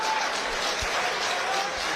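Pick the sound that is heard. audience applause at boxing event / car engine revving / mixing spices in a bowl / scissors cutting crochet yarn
audience applause at boxing event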